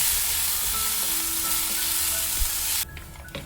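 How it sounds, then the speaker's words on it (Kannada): Potatoes and seasonings sizzle in a pan, a loud close frying hiss that holds steady and then drops off abruptly near the end, leaving quieter crackles and a soft clink. "ನೋಡಿ ಇವೆಲ್ಲನೂ ಇವಾಗ 1 ನಿಮಿಷ ಹುರ್ಕೊಳ್ಳೋಣ."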